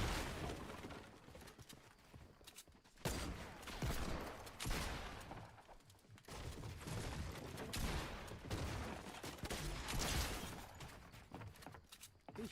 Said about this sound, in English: Bro, who is shooting?